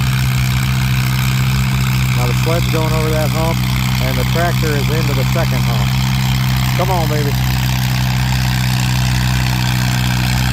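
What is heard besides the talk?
antique tractor engine pulling a sled in a tractor pull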